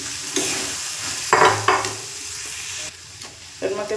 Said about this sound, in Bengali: এবারে মশলার মধ্যে মাছটা দিয়ে দেবো।